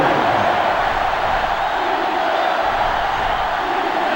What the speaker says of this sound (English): This sellout crowd is really making a difference now as these guys can't even call the play.